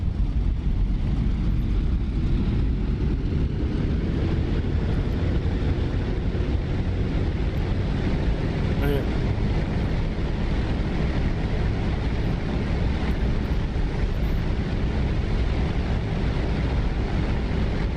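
P-47 Thunderbolt radial engine running up in DCS, a loud continuous deep roar that holds steady for the whole stretch, with a slight shift in pitch partway through and no talk over it.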